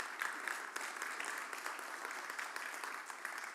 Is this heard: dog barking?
no